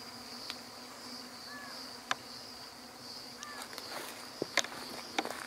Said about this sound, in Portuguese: Tá escutando as abelhas?